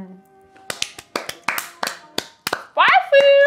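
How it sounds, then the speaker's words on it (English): Several people clap for a plate of charcuterie food, sharp slaps in an uneven burst of about a dozen claps, close and loud, followed by talk and laughter. "Sometimes the food is so good, you need to applaud it."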